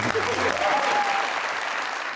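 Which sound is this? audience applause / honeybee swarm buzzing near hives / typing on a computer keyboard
audience applause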